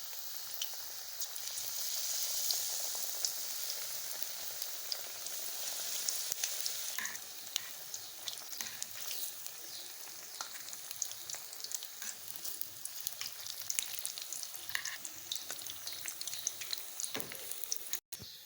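Besan-dipped potato pakoras frying in hot oil, a steady bubbling sizzle with crackling pops, quiet and continuous throughout with a soft clatter near the end, no talking.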